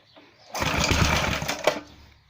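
A Briggs & Stratton small engine is yanked on its pull-start with the choke on, giving one short burst of rapid chugging cranking that fades without catching.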